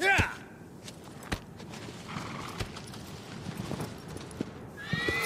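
A horse in the video game Shadow of the Colossus whinnies at the start and end, with sparse hoof clops and thuds in between and a voice talking underneath.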